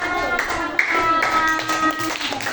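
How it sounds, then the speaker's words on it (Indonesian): Children clap together in a primary school classroom, a busy, uneven patter of hands sounding close and fairly loud, with voices mixed in throughout. "Beri tepuk tangan."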